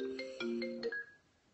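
Phone tones during an outgoing call: a quick melodic run of beeping notes, then a single fading higher tone, fairly quiet.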